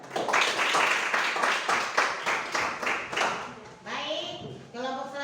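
Classroom applause from students after a group presentation, a burst of rapid clapping that fades out, followed by a voice speaking alone at the end.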